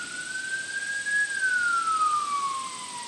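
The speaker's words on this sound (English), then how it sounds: "Must be something going on, lots of sirens right now." Emergency vehicle siren wailing from beyond a garden, a single steady tone sliding slowly up and then down, moderately loud and continuous, with no talking over it.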